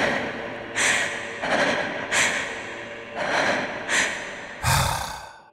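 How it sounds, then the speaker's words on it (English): Queen Annalise, the vampire queen in the Bloodborne video game, panting and breathing heavily after falling over, with a series of about six loud, ragged breaths in a steady rhythm, the last one deeper and harsher. "she'll fall over and you can hear her panting and breathing heavily"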